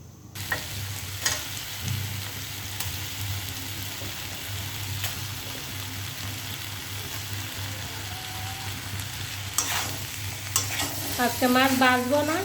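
Fish is sautéed with spices in a pan: a steady sizzle runs throughout, with occasional clinks and scrapes of stirring and some louder clatter near the end.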